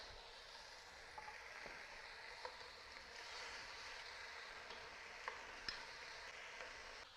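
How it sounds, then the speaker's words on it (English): Rabbit meat browns in a Dutch oven with a soft, steady sizzle and an occasional tiny pop. It stays faint throughout, with no talking. "Our rabbit is browning pretty nicely on one side."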